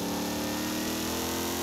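A Corvette C2 tuned to nearly 800 hp, its front engine revving steadily and loudly in Forza Horizon 5, a dense sustained roar with no voices over it.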